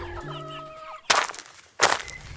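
A rooster gives clucking calls in a cartoon horror story, followed by two sharp bursts of noise, close and fairly loud with no talk.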